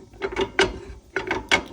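A socket or pliers turning to seat wheel bearings on the spindle of a Coleman camper, two quick bursts of metallic ratcheting clicks, close and loud with no talking.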